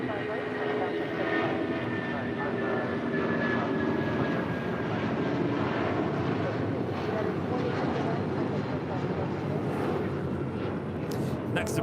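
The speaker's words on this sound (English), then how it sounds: "Next departure is American Airlines in the flagship Valor livery, heading to Cabo in an A321." American Airlines Airbus A321 departing Los Angeles International, a steady distant jet engine roar holding level throughout, with faint background sound and no clear voices.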